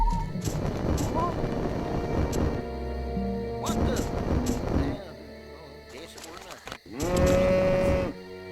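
Cows mooing in the video game Destroy All Humans!, several loud drawn-out moos in separate bursts with game sound effects and rumbling between them.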